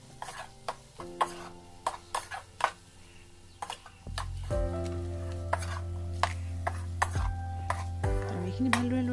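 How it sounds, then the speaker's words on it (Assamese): Jackfruit curry with fried potatoes, salt and a little sugar is stirred in a pan, giving a string of close clacks and scrapes from the spoon over a soft sizzle, with a steady low hum joining partway through. "তাতে মই ফ্ৰাই কৰি লোৱা আলুকেইডোখৰো দি দিম আৰু তাতে সোৱাদ অনুযায়ী নিমখ দিছোঁ আৰু অলপমান চেনি দিছোঁ আৰু গোটেইখিনি ভালদৰে লৰাই দিম এতিয়া।"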